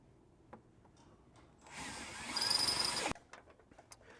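A drill bores a 5/16 hole through the rear inner fender of a JL Jeep Wrangler: one steady whining run of about a second and a half, close and fairly loud, ending abruptly, with faint handling clicks before and after.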